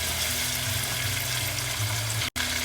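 Tomatoes sauté in a hot pan for ghee sambhar, giving a dense, continuous sizzle and hiss that stays steady and close throughout, with no talk.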